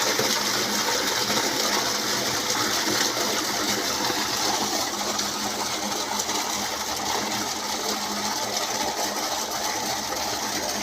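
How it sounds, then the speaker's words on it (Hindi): Water gushes continuously from a pipe in a Punjab village in Pakistan, a loud, steady broadband rush with a mechanical hum under it, unbroken for the whole stretch. "ये पानी आ गया।"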